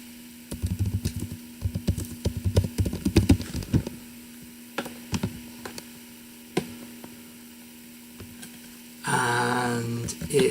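Keys clatter on a computer keyboard in quick bursts of typing, close and fairly loud, followed by a few isolated key taps and a short burst of broadband noise near the end.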